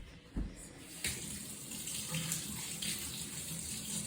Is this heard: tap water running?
yes